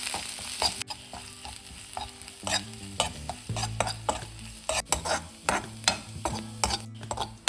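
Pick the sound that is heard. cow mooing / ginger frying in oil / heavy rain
ginger frying in oil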